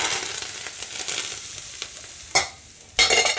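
Hot tempering poured over poha for dadpe pohe, a broad close sizzle and hiss that fades, then two sharp sudden bursts of crackling sizzle.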